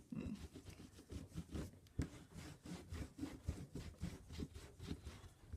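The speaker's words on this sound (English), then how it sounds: "I'm going to gently wipe my stamp clean." A rubber stamp being wiped clean with a baby wipe, giving a steady series of soft rhythmic rubbing strokes, close and fairly quiet, with no talking.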